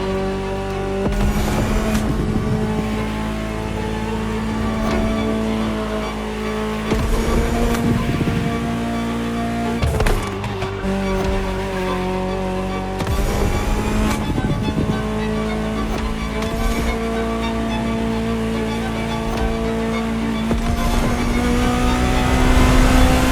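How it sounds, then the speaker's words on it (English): A Ferrari supercar engine in The Crew Motorfest roars and revs continuously, rising through gears with repeated shift breaks and a sustained high-pitched drone, loud and close with no voices. "Just listen to the car you're driving."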